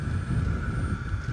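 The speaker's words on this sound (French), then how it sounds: "c'est une espèce de petit bruit un peu futuriste où je sais que ma moto est démarrée" A Zero SR/F electric motorcycle sits switched on, giving off a faint, steady futuristic whine under heavy outdoor wind rumble.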